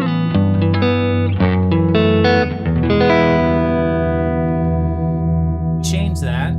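Electric guitar runs through a Flower Pedals Dahlia dual analog delay set to divided delay, with chords and notes ringing into smeared repeats that trail off as a sustained tone, ending with brief high clicks.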